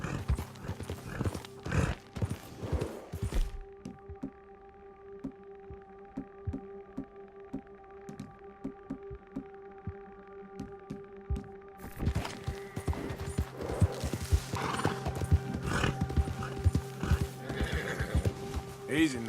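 Galloping horse hooves in the Red Dead Redemption 2 game, a fast clip-clop rhythm with whinnies and neighs, loud at the start and end around a quieter stretch of sustained tones, with bits of voice mixed in.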